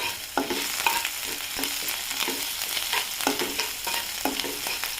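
Green chilli, garlic and ginger paste frying in hot oil, with a steady sizzle and repeated stirring scrapes of a spoon through the pan at close range, no voices.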